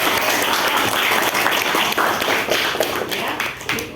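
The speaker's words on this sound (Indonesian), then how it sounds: "Oke, tepuk tangan." A class claps hands together in a school lesson, a dense burst of close applause that continues steadily and tapers slightly toward the end.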